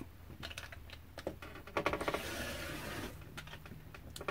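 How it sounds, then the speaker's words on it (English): A T-shirt is cut for a collage-style quilt, with a run of rapid crisp snips and clicks, close and fairly quiet, in irregular bursts without speech. "we're going to cut the bottom of the shirt off."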